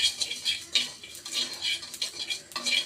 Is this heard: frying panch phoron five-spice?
yes